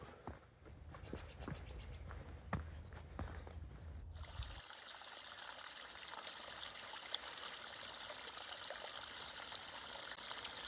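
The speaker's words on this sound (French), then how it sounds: "L'eau passe par en dessous." A stream flowing beneath a beaver dam in a provincial park lake, a steady soft trickle and rush of water. Heavier bumping and knocking sounds come first, then the gentle flow continues alone.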